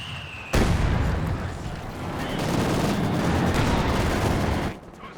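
Mortar fire in the strategy game Company of Heroes 2, a sudden loud blast followed by several seconds of dense rumbling explosions and battle noise that then cut off abruptly.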